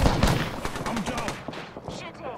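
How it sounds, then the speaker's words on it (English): Gunfire in the Apex Legends video game, rapid bursts of sharp shots in quick succession, fairly faint, with voices talking over the shooting. "We're being shot at."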